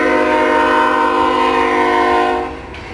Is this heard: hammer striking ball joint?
no